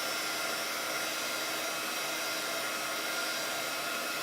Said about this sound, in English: apply some heat with a heat gun